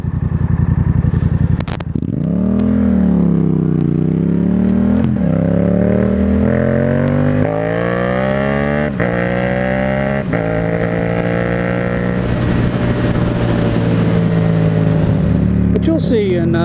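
A Yamaha FZ-07 motorcycle engine-brakes uphill through a series of downshifts, its loud, close exhaust note blipping up with each gear change and then sagging in pitch, with a rider talking over it.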